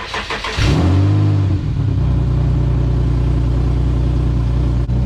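An Infiniti G37's engine cranks and catches, flares briefly in a rev, then settles into a loud, steady idle close by.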